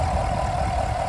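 2023 Chevy Camaro 1SS convertible with the LT1 V8 idling, a steady low rumble with an even throb, close and unchanging.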